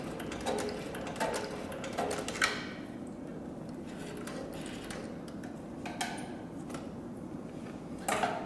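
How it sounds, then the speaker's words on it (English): CB3200 triple-feed leather sewing machine stitching in reverse, a steady mechanical ticking with a few louder clunks near the start and end, close and moderately loud, no talking. "now we're going to go ahead and sew in reverse"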